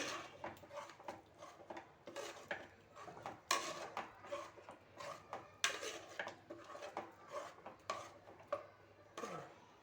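A ladle stirs and scrapes through fenugreek leaf curry in a cooking pot, making a run of rhythmic knocks and scraping strokes close by, with several sharper clanks along the way and no one talking.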